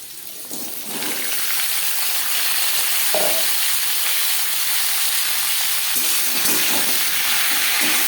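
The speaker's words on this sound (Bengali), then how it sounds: "জিরে ভেজে নেওয়ার পর দিয়ে দেবো পেঁপে" Papaya pieces fry in a little refined oil tempered with whole cumin seeds. A loud, steady hiss swells up after a quieter first second, with occasional stirring scrapes over the constant sizzle.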